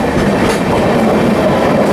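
Amrit Bharat Express train running at speed past a Patna–Charlapalli special train near Durg Junction, a steady, dense rumble of wheels and carriages with faint rhythmic clatter, continuous and close throughout.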